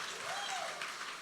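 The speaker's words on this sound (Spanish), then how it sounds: "¿Le puedes dar un aplauso al Señor?" Church congregation applauding at a service, a brief dense wash of clapping that holds steady at moderate level, with a faint voice blending into it.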